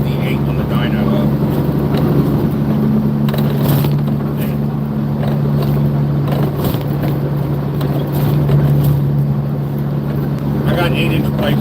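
Stretched Peterbilt truck engine with 8-inch straight exhaust pipes, rated around 550 horsepower: a steady, deep droning rumble holding throughout, loud and close, while someone talks over it.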